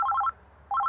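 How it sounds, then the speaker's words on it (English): A telephone rings close by in two quick bursts of rapid electronic trilling, with a short silent gap between them. "Oh, that's the phone."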